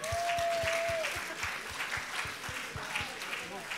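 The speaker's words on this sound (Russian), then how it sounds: "Аплодисменты!" Audience applause at a Christmas evening celebration, sustained clapping over a steady thumping beat of music, with a brief voice-like tone early on.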